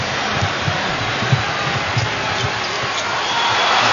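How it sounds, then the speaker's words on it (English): Loud roar of an arena crowd at a 2006 NBA Western Conference semifinal playoff game between the Mavericks and Spurs, a steady dense wall of noise with faint ball bounces and murmur beneath. "you can hear the entire crowd screaming"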